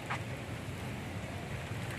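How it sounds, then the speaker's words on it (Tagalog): Rain falling outdoors near a parked motorcycle, a steady, dense hiss with a low rumble of wind noise, continuous and fairly close, with no talking. "Umulan."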